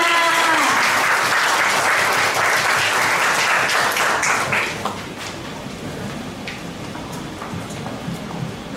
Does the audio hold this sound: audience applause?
yes